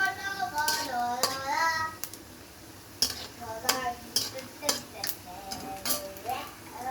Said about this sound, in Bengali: বাদামটা আমি ভেজে তুলে রাখবো।